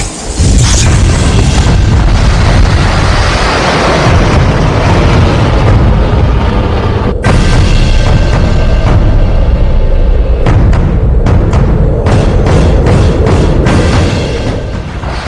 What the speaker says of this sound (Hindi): सिर्फ 5 सेकंड में आसमान में दुनिया की सबसे खतरनाक मिसाइल खोखे से बाहर